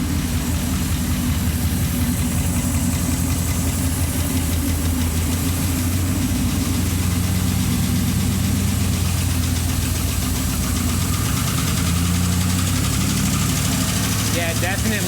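A cab-over-engine ramp truck idles low and rough with a steady mechanical lifter tick riding over the rumble, loud and close, while people talk over it.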